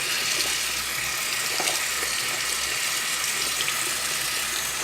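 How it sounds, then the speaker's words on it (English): Warm tap water runs steadily over a makeup sponge being rinsed in a sink, a loud, even gushing rush that carries on the whole time with no voices. "rinse with warm water until the water"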